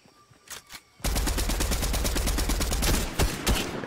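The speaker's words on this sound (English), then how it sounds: "AR is so satisfying." Rapid bursts of MK 7 assault rifle fire in Fortnite Chapter 3: a few faint shots, then a loud, sustained automatic volley of tightly spaced cracks lasting nearly three seconds, with a brief gap before more shots.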